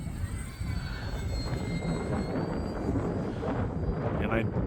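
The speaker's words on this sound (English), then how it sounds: "it's been so long since I've flown this airplane" An Arrows Bearcat RC airplane flies on a windy Sunday, its engine whine drifting at a distance beneath heavy wind noise that roars steadily against the microphone.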